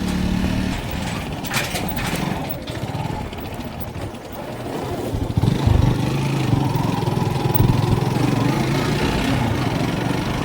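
A small motorbike engine drones steadily throughout on a dangerous mountain road in Dolpa, Nepal, rising slightly in intensity midway, with no speech over it.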